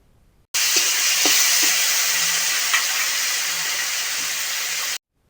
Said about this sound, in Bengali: ওই একই তেলের মধ্যে চিংড়িগুলোকে ভেজে নিতে হবে